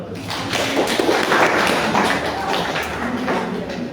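A classroom of students claps their hands together, a dense, busy patter of many hands filling the room at moderate loudness, continuing steadily with a few scattered thumps.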